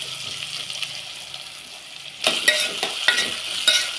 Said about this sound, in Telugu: కరివేపాకు, ఆలుగడ్డలు ఇలా వేసి కలుపుకోవాలండి. నూనెలో ఉడకాలి.